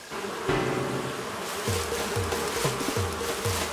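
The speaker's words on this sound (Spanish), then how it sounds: "De la avispa." A wasp buzzes in Animal Crossing: New Horizons, a steady insect drone over repeated low game thuds that come in a regular rhythm. No voices are heard.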